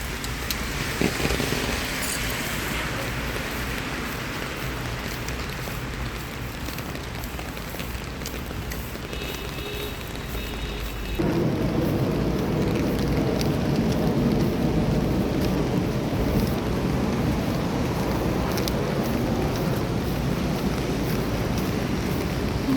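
Steady rain pours down, broadband and continuous, growing noticeably heavier and louder about halfway through, with no voices.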